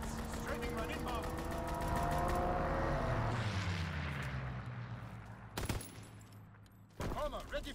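Aircraft strafing run in Call of Duty WWII: a loud swelling engine roar with bursts of rapid gunfire, the plane passing overhead and fading, followed by a couple of sharp impacts near the end.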